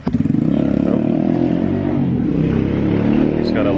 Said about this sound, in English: My uncle just took off on a motorcycle and I think I hear him coming back.